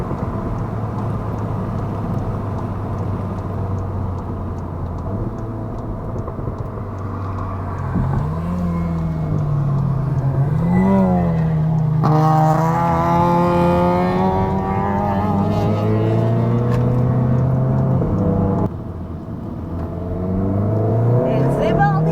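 A Seat Leon Cupra 300 on a warm-up lap around a circuit, heard from inside: a steady, loud engine drone that rises and falls through the gears, with someone talking over it throughout.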